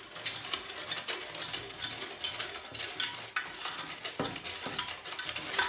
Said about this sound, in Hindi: अब इसे करेंगे अच्छे तरीके से मिक्स।